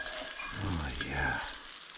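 Crispy spam and potatoes sizzle in a cast-iron pan at a woodland camp, a soft steady frying hiss with someone speaking over it.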